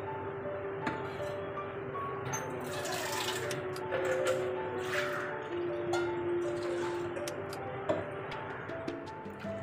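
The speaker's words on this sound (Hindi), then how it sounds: "और हम इसमें डालेंगे तकरीबन 2 लीटर पानी।" Roughly two litres of water poured into a pot of Surti Randeri chicken khawsa curry, a faint continuous splashing and trickling with a few small clinks of a utensil, quiet and close in a home kitchen.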